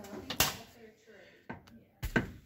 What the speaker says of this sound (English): Let's look at the passenger side real quick if this door is not locked.